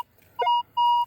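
Metal detector at a rodeo site and local park signalling a target: two clear steady electronic tones, each lasting about a quarter second with a short gap between them, alone against quiet background.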